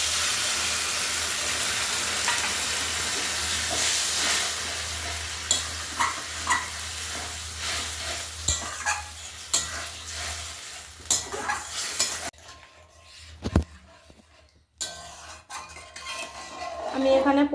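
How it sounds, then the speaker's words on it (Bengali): Water poured into a pan of spiced kathkoi fish gravy with potatoes and taro, a steady loud sizzle and hiss with scraping stirs and clinks of a spoon against the pot, quieting near the end. "এবার এর মধ্যে আমি জল দিয়ে দেব।"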